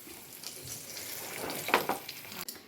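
Kingfish (ayakoora) pieces fry in hot oil, giving a steady close sizzle with crackling bursts and a brief louder spatter near the end, no talking.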